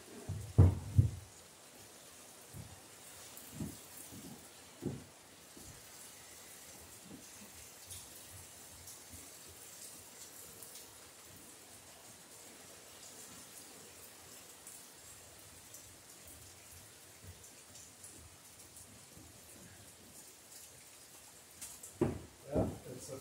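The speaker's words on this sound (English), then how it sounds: "Sounds like it just started raining up there." Soft, steady rain patters continuously in the background, with a few louder thumps and knocks near the start and end.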